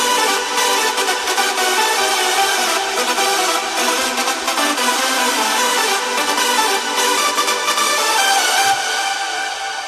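Several layered synth leads from a dance remix play together in a dense, bright, sustained wall of sound, loud and continuous with a steady pulsing texture throughout.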